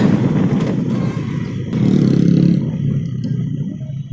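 A motorcycle cruising on a highway in Bangladesh, its engine droning steadily and close, with the roar swelling briefly midway as it rides along. No one speaks.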